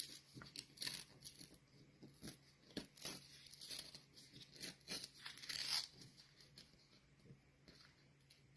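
Paper is torn by hand while making a greeting card, a series of close, quiet ripping and crinkling strokes in irregular bursts with no talk.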